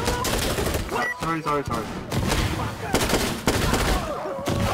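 Video game gunfire crackles in rapid bursts and volleys, dense and loud throughout, while a voice briefly speaks over the shooting.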